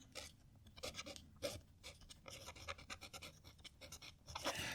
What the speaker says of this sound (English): It's a very, very scratchy nib on this.